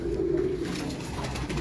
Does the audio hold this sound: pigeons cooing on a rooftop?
yes